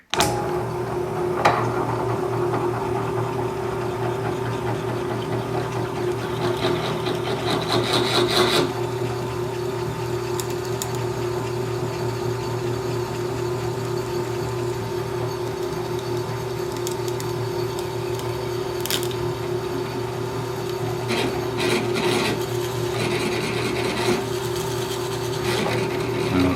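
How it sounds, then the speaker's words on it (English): A drill bit cuts through the plastic parts of a model ship, a steady grinding rasp with a constant motor whine and scattered cracking and popping, close and continuous throughout. "I heard some cracking and popping going on, but I'm hoping that that was the, you know, the bit cutting through the plastic parts"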